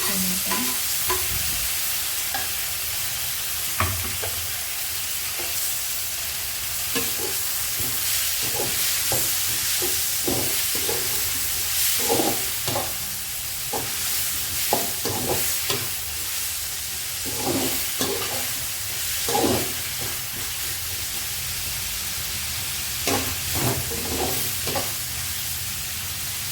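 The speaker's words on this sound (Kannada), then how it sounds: "ಸೊ ಈರುಳ್ಳಿ ಚೆನ್ನಾಗಿ ಫ್ರೈ ಆದಮೇಲೆ ನಾನು ಟೊಮೆಟೊ" Onions and tomatoes fry in a hot pan under a steady sizzle, with a spatula stirring and scraping in irregular strokes throughout, close and fairly loud, no speech.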